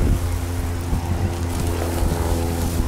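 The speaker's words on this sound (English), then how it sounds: "Hopefully the wind isn't bothering you guys." Outdoor wind in a garden beside a potato barrel buffets the microphone with a loud, steady, low rumble that fills the whole stretch without letting up; no one speaks.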